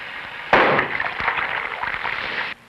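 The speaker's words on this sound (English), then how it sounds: "Metallic sodium, which detonates when mixed with water." Metallic sodium detonating on contact with water sends out one loud, sudden blast that rolls into a sustained hissing, crackling roar. The roar holds for about two seconds before cutting off abruptly.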